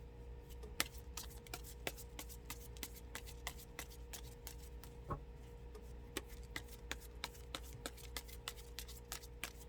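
Fortune-telling cards being shuffled by hand, a quiet close series of quick, crisp flicks and taps repeating irregularly over a soft steady background, with no one talking.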